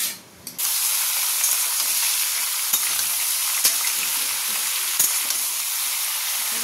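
Vegetables including ridge gourd drop into hot oil seasoned with dried red chilli and Bengali five-spice, bursting into a loud, dense hiss that stays steady for several seconds after a brief quiet start, with faint clicks, no talk.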